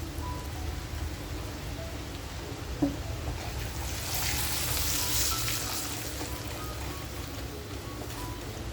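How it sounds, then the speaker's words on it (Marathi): Masala with turmeric fries in a pan for a village-style crab curry. It gives a steady close sizzle like light rain, swelling slightly midway, with a single small knock and no talking. "शलाका ऑल इन वन जो आपण अर्धा मसाला ठेवला होता मस्त असा खमंग फ्राय करून घ्यायचा आहे आपल्याला."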